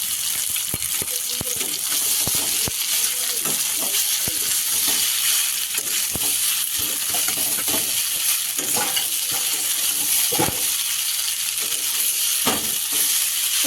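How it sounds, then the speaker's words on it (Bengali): Pasta fries with onion and chilli in a pan, a loud, constant sizzle running throughout with close, irregular scrapes and knocks of a spoon stirring. "এবার কি পাস্তাটা ভাজা হবে, তাই তো?"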